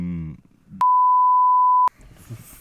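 A steady, loud single-pitched beep lasts about a second, cutting in between stretches of conversation that sit on either side of it.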